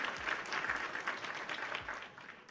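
Sustained applause from a small group, steady dense clapping with no pauses, lasting about two and a half seconds.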